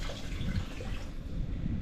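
Water is poured into a cooking pot of softened onions, about four cups, for a Louisiana crawfish dish. It makes a steady, close splashing stream that runs unbroken with no talk.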